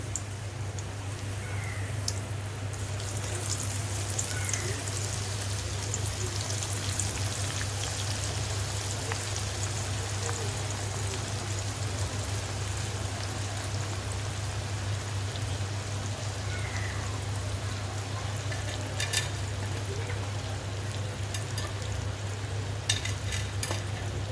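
Onions frying in hot oil for a home-cooked veg biryani, a steady dense sizzle and crackle running throughout with a constant low hum beneath and occasional stirring clinks.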